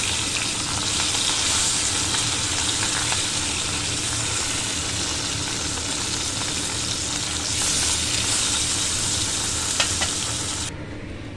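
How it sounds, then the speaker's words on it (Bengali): Fish deep frying in hot oil in a home kitchen, a dense, continuous sizzle and crackle that holds steady throughout, then drops away abruptly near the end. "এগুলোকে ডিপ ফ্রাই করবো, তাই জন্য দিচ্ছি আবার"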